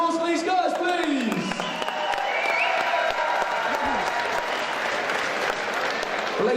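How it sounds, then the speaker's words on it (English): A kickboxing event crowd applauds the two K1 fighters after their bout, a dense, steady wash of clapping and cheering with an announcer's voice and a few whoops heard over it throughout. "Nice round of applause for these guys, please."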